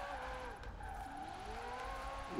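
Tyres squeal and a car engine drones steadily as a red car drifts and skids in Forza Horizon 4, with a sustained whine and sliding screech throughout, close and continuous.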